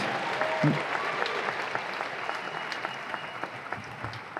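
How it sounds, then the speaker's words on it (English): Graduating students are applauded at a university commencement ceremony, sustained crowd clapping heard from a distance that holds steady and thins slightly toward the end, with a brief voice near the start. "Applause for our students."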